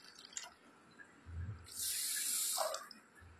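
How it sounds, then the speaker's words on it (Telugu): Water is poured over grains to soak them for sprouting, a steady splashing rush of about a second that stands out from a quiet kitchen background, with a few faint drips and clinks around it. "అవి మునిగే వరకు నీళ్ళు పోసుకోవాలండి."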